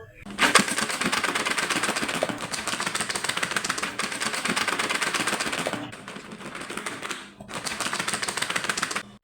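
A sealed jar of mashed jackfruit seeds mixed with mustard oil is shaken hard, giving a dense, steady rattling clatter in fast bursts with two short pauses, close and loud with no talk.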